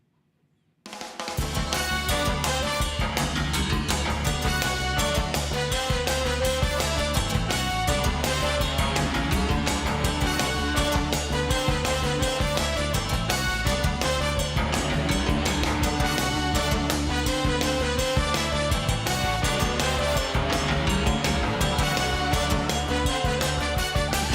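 A full, busy music track plays continuously after a brief silent start, with punchy sampled horn-section stabs from an Emulator sampler over a steady driving beat.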